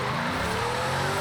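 A 2011 Bugatti Veyron Super Sport drifting in Forza Horizon 5 on a rear-wheel-drive drift tune, its engine roaring loudly with tires squealing in a brief, continuous burst.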